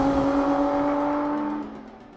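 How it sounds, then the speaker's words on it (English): A 2023 Lotus Emira's engine holds a loud, steady high rev with strong harmonic tones, then eases off and fades toward the end. No voices are heard. "All right, so that's the engine."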